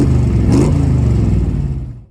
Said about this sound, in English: that all sounds so good coming out of those side pipes with a nice rumble